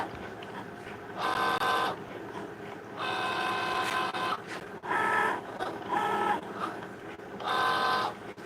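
A Cricut Joy Xtra cutting machine runs close by in repeated bursts of motorized whirring, each lasting about a second, separated by short quiet pauses as the carriage moves back and forth.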